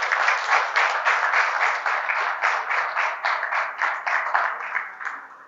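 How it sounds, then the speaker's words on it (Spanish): Church congregation applauding, a dense, rhythmic burst of many hands clapping together in near unison, holding steady for several seconds before fading. "Démosle un aplauso al Señor por ello."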